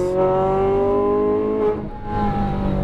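A sports car engine on a race track, a loud close drone that rises in pitch as it pulls, then drops briefly as throttle eases around a shift before building again.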